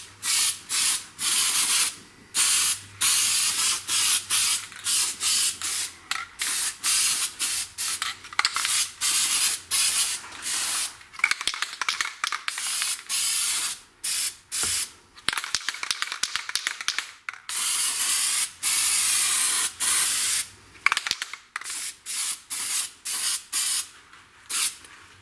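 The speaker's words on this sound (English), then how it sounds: "we're going to spray about the last inch here, then here with our spray adhesive" Spray adhesive hisses from a can onto a Camaro or Trans Am sail panel speaker cover, in many repeated close bursts of varying length separated by brief pauses, with no talking.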